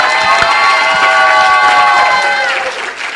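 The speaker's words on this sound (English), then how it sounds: "give them a hand" An audience at a symposium honoring Louise Bennett-Coverley claps and cheers together, a short burst of lively applause with crowd voices mixed in.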